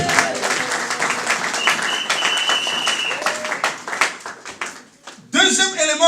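Church congregation at a French and Dutch bilingual service in Rotterdam applauding and cheering, dense sustained clapping with voices throughout and a louder swell near the end.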